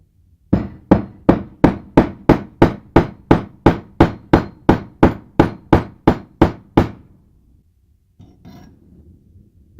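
A hefty rivet hammered during body assembly, about sixteen loud, evenly spaced metallic blows that stop abruptly, followed by a faint shuffle.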